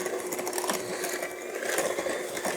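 An electric hand mixer whirs steadily, beating brown sugar into oatmeal cookie dough, a continuous close buzz with no talk.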